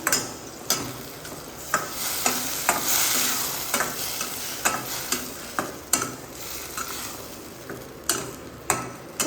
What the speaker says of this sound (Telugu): వన్ స్పూన్ కారం వేసాం కాబట్టి వన్ స్పూన్ ఉప్పు కూడా వేసేసాను అన్నమాట ఇప్పుడు ఒకసారి మనం మిక్స్ చేసేసుకున్నాం